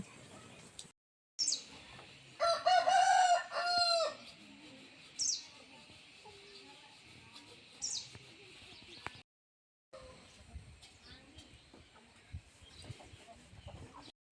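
Chickens cluck and squawk nearby in short bursts, with a few louder calls standing out against a quiet outdoor background.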